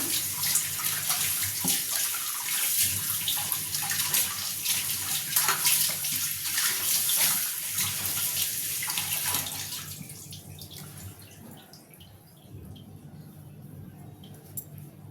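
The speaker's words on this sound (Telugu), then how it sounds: "మొత్తం అన్నీ కడుక్కొని ఇలా ఒక దానిలో వేసుకున్న తర్వాత ఉప్పు పెట్టి కడుగుదాం" Fish pieces being washed in water with salt, with steady splashing and sloshing from a tap or bowl close by for about ten seconds, then a quieter stretch of drips and small squishes.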